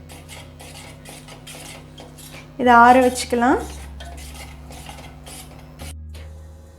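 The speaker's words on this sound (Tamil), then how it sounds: "ஜஸ்ட் நல்லா மிக்ஸ் பண்ணி விட்டுக்கோங்க." A spoon stirring health mix porridge made with milk scrapes and clatters against a metal pot in a short loud burst, nearby, with someone speaking calmly before and after.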